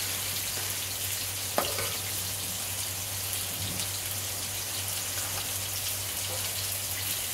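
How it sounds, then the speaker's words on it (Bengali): Greens with salt stir-fried in a pan give a steady, even sizzle with a spatula scrape and an occasional tap against the pan. "আমি দিয়ে দিয়েছি 1 চামচ নুন, দিয়ে একে কষছি।"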